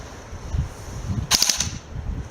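A BB gun fires a short cluster of sharp snapping pops over a quiet, rumbling background, then falls silent.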